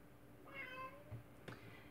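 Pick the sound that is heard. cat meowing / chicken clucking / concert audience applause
cat meowing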